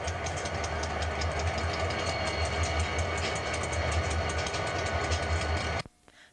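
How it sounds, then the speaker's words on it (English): A railroad helper locomotive idles in a yard as it gets ready to assist a heavy train: a loud, steady diesel rumble with a continuous mechanical drone that cuts off abruptly near the end. "let's go to a yard and see this Helm engine as it's getting ready to"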